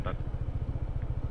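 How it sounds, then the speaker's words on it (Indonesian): A motorcycle engine chugs with a steady low pulsing rhythm at a campsite, fairly close and continuous, with a brief voice at the very start. "Ini motor masuk."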